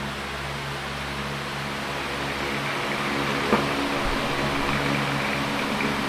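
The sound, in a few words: rattle of running 2001 Hampton Bay 18-inch pedestal fan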